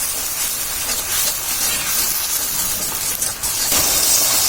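Spice paste of ground dried red chili sizzles hard in hot oil, a loud, dense, unbroken hiss with a brief dip near the end, no voices.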